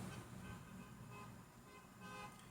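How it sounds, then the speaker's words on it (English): A car horn sounds faintly and steadily from a distance over low traffic rumble at night, with no talk. "You hear the horn?"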